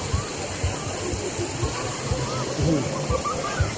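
Water rushes steadily down a stream near a bridge, a constant broad roar up close, while a voice talks over it in short bursts.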